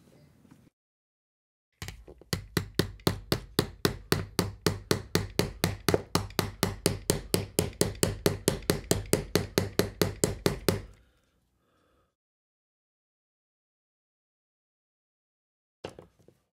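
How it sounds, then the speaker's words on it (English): Rapid, even tapping of a small hammer driving nuts into a plastic model kit, about forty sharp close knocks in a steady run, then silence and a couple of faint taps. "I'm hammering those in place so we can screw this together"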